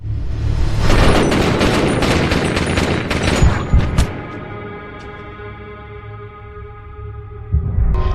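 Gunfire in a film scene where police shoot a man at a crime scene: a dense burst of rapid shots and booms for about four seconds, then a fading ringing tail and one last loud hit near the end.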